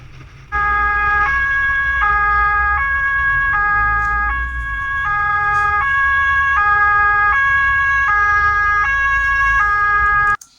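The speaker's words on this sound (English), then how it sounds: "They literally started blowing the sirens before heading out." A German police car on the Autobahn wails its two-tone emergency siren, a loud, close alternating hi-lo pattern repeating steadily for about ten seconds with road rumble underneath.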